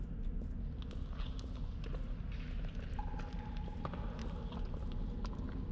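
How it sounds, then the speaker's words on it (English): Footsteps in the horror video game Lazaretto tread in a steady rhythm over a low ambient drone, with a faint tonal hum entering partway through. "Like, those are footsteps, aren't they?"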